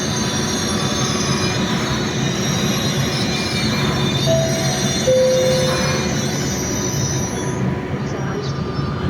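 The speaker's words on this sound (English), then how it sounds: "Il treno Frecciarossa 97:41 di Trenitalia delle ore 17:46 per Venezia Santa Lucia è in arrivo al binario 5" A Trenitalia Frecciarossa high-speed train pulls in at platform 5 of Padova station, a loud continuous rumble of wheels on rails with brief brake squeals, while a station announcement voice plays over it.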